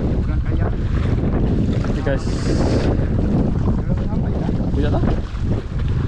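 Strong wind at sea during kayak fishing off Melaka, roaring constantly against the microphone with buffeting gusts and water noise throughout, while someone speaks briefly over it.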